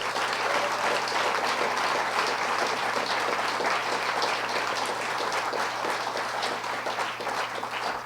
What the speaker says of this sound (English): They should be recognized and applauded by you this evening.